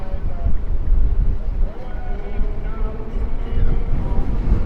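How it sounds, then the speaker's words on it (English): Gusts buffet an outdoor microphone, producing loud low rumbling thumps that rise and fall unevenly, with faint background sounds underneath. "Whew, windy."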